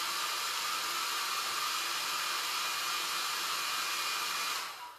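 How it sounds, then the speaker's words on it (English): Blow dryer on a cool setting drying chalk paint, a loud steady whoosh of airflow running continuously at close range before cutting off abruptly at the end. "I'll use a blow dryer just on a cool setting"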